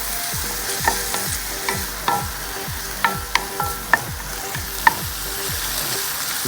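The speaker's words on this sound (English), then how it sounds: "Turn it up a little so you get a little more of a sizzle there, turn up the heat a little bit, and stir fry that up." Dandelion greens stir-frying in a hot pan, a loud continuous sizzle broken by repeated scraping strokes of the stirring utensil and a few sharp clinks against the pan.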